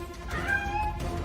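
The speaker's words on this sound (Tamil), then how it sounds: "அது வெறும் பூனைடா" A cat gives one drawn-out meow, moderately loud and fairly close, over quiet indoor background noise in a TV drama scene.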